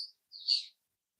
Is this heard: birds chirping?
yes